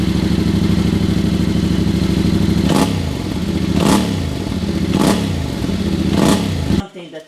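A Yamaha Tenere 700 with a Mivv Dakar exhaust idles loudly, then revs sharply four times in a steady rhythm, each rev a quick roaring blip.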